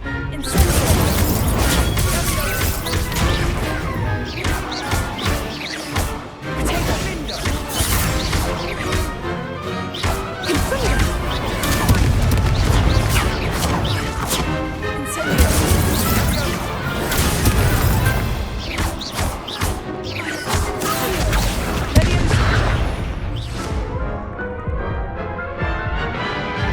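Spell blasts crash and explode during combat in Hogwarts Legacy, a loud, dense run of impacts, whooshes and bursts layered over continuous game noise for the whole stretch.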